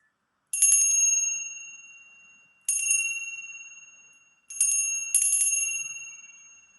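Small bell struck four times in an irregular pattern, each clear ring decaying slowly into silence, the last two strikes close together, near and alone in a quiet room during a zodiac tarot reading.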